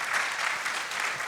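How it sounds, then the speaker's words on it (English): Audience applause at a financial services panel discussion, a steady dense clapping that fills the short moment without talk. "can you give them a round of applause?"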